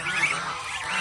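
Newly hatched goose goslings in a brooder give a continuous chorus of high, thin peeping calls, close and fairly loud, with several chicks overlapping.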